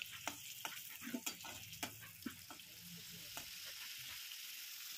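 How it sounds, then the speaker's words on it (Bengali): Potatoes with salt and turmeric fry in hot oil in a wok, with a close, soft sizzle. Quick scraping stirs and ticks are scattered through the first two seconds, and the frying then settles into a steadier hiss. "প্রথমে কড়াইতে তেল গরম করে কেটে রাখা আলু নুন হলুদ দিয়ে ভেজে তুলে নিলাম"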